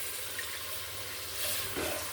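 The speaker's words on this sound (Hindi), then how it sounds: "सिर्फ पानी डालना है मैंने इसमें और चावल डालने हैं।" Water pours into a cooking pot for matar pulao, a soft, steady rushing hiss that swells slightly toward the end, close and fairly quiet.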